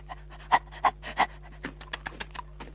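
A police dog in a Tamil comedy scene pants in quick rhythmic bursts, close and fairly loud at first, then lighter, breathier pants continue alone over a steady low hum.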